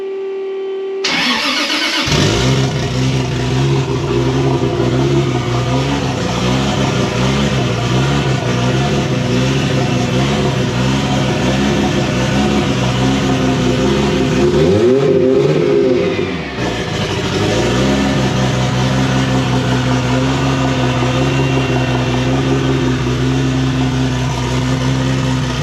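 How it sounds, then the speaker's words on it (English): A car engine with its exhaust running straight off the dump pipe cranks and fires, then settles into a loud, raspy, close idle. Near the middle it briefly blips up before dropping back to idle. "We'll start this thing up. You can listen how loud it is just off the dump pipe,"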